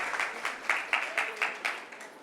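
Small gathering at a Buddhist vihara clapping together in a slow, even rhythm, about eight distinct claps in a row, moderately quiet and unaccompanied by talk.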